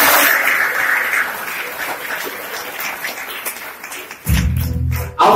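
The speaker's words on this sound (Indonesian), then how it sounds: "Tepukan untuk" An audience at a motivational training session in an Islamic boarding school breaks into applause, a dense crackle of clapping that thins out before a loud amplified voice cuts in near the end.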